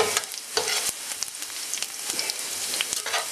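Porcini mushrooms fry in a pan to a golden crust, giving a steady close sizzle and crackle with small popping bursts throughout and no voices.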